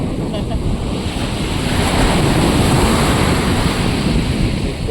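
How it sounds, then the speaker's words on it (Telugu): Ocean waves breaking on a beach at Visakhapatnam, a loud, steady roar of surf and wind rushing across the microphone, continuous and close throughout. "ఇక్కడ బీచ్"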